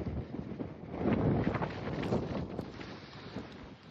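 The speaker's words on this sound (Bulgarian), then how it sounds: "Не е като да няма вятър." Gusty wind blows outdoors at an Irish fishing spot, buffeting the microphone with steady low rumble that swells louder midway and stays broad and continuous with no talk.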